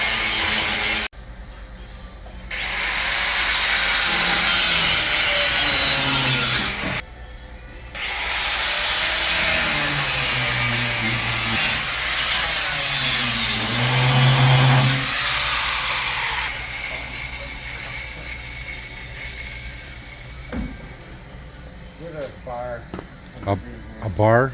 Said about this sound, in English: So Dad is grinding this off.